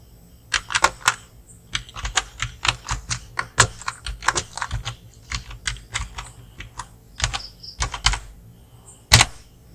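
Rapid typing on a computer keyboard, a close run of sharp, irregular key clicks with short pauses and one louder tap near the end, with no talk.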